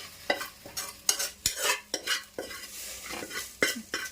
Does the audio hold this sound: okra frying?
yes